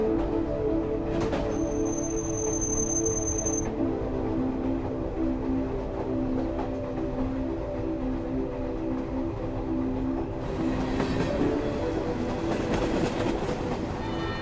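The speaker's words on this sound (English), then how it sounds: "heading into town on the train" A train carrying a passenger into town, with a steady rumbling drone and low engine hum throughout, a brief high tone early on and the rolling noise swelling louder near the end.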